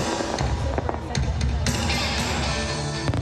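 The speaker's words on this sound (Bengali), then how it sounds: "প্রায় 1300 রঙিন আতশবাজি আকাশে ছোড়া হয়" Winter Odaiba Rainbow Fireworks burst over Odaiba Beach in Tokyo, with a rapid string of booms and crackling pops, some sharp and close. A voice talks over the explosions throughout.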